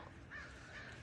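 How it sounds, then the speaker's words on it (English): Crows cawing loudly outdoors, two harsh calls in quick succession over a noisy, breezy background. "the birds are really loud right"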